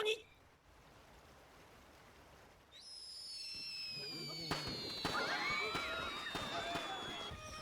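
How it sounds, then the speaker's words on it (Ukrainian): Rocket fireworks whistle upward and crackle and bang overhead, a dense run of bursts and sparkling pops building after a quiet start. "Ракетні феєрверки призначені для запуску у нічне небо."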